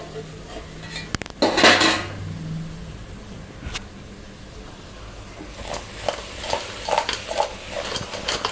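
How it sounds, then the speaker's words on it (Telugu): A spicy crab curry is stirred in a cooking pot, starting with a loud clatter and scrape of a spoon against metal, then settling into softer, intermittent scraping strokes close by. "కూర కలుపుతూ ఉండాలండి."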